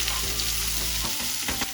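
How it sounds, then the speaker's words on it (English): Onion stir-frying in butter over high heat, a loud continuous sizzle with stirring scrapes and a couple of utensil knocks near the end, no voices. "add a little butter and stir-fry the onion over high heat"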